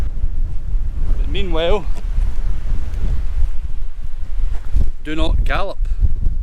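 Steady wind buffeting across exposed moorland at roughly 300 metres in the Scottish Borders, a continuous low rumble of gusts against the microphone throughout, with someone speaking briefly over it.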